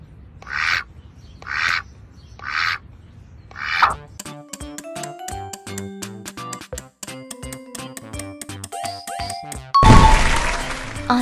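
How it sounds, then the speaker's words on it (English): Several bursts of duck quacking, loud and close, in a quiz of animal sounds, followed by a tinkling jingle of music and a short bright crash at the end. "This is duck sound."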